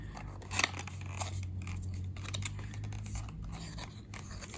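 Packaging of a Mini GT diecast model car being cut and opened, heard as close, quiet snipping and slitting strokes with light rustling and tearing of card and plastic, with no talk.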